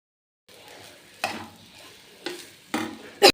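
Cauliflower rice is stirred and mixed in a pan, with several sharp scraping strokes and a final loud clatter over a soft background frying hiss.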